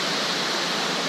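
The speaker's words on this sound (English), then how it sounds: "we've come across another beautiful waterfall. This is the Bimnana Falls." Bimnana Falls, a Himalayan waterfall, as a steady, loud broadband rush of falling water, close and constant with no other sounds.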